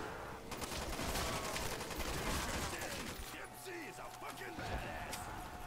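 Gunfire in Call of Duty Zombies, with rapid bursts of shots and mechanical clatter layered with game effects, while a player talks over the action.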